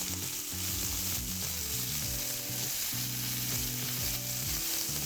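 Seasoned meat frying in a pan, a steady broadband sizzle running throughout with music playing over it, no talking.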